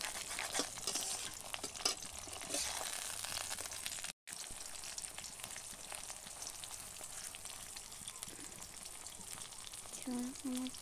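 Oil sizzles and spits steadily in a pan as an egg fries for a poached egg, a continuous near crackle with a brief stir or clatter near the end.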